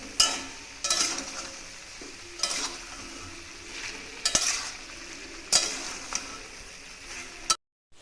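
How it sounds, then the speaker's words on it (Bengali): Chicken stew with salt and turmeric sizzles in a pan while a spoon stirs it, scraping in about six separate strokes over a soft background crackle, close by, before the sound cuts off abruptly. "কষিয়ে মানে মিশিয়ে নিচ্ছি সব নুন হলুদ একসঙ্গে"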